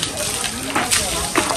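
Water is splashed and thrown over a person during Holi, a loud, close gush with sloshing bursts, under excited talk.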